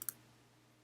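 A computer mouse gives two quick, sharp clicks right at the start, followed by a faint steady hum with no further sound.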